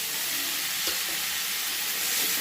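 Chopped tomatoes, four of them, sizzle steadily in a hot frying pan while egg bhujia is cooked, a close, even hiss with a brief clatter of stirring.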